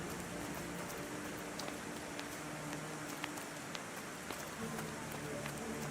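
Heavy rain in the video game The Thaumaturge, a dense, steady patter with scattered sharper drops throughout, while a voice talks over it.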